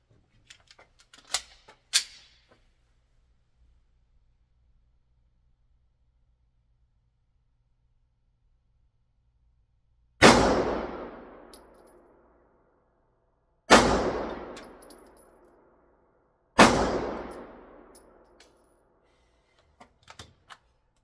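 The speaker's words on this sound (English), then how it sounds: "Let's shoot it and see where it does." Pistol shots fired with a Crimson Trace RAD PRO red dot sight: three loud, sharp reports spaced a few seconds apart, each with a ringing decay outdoors, preceded and followed by small handling clicks.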